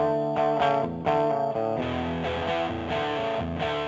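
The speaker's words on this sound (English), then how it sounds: "The distortion pedals range from classic treble booster" Electric guitar chords played through a distortion stomp box, treble booster style, in Logic Pro 9, loud and saturated with sustained harmonic-rich strums changing every half second or so.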